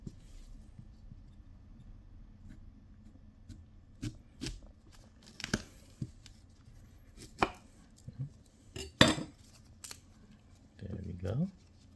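Knife slicing through a mango in a few short, sharp cuts scattered across a quiet background, with a brief scraping rustle near the end.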